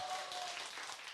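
Audience applause greeting a lecturer at a citizens' lecture, a steady wash of many hands clapping at a fairly low level without pause.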